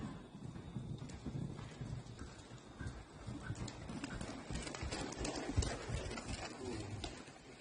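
Horse hooves walking on an arena footing during a riding lesson, a steady, soft clip-clop rhythm at moderate distance with faint background voices.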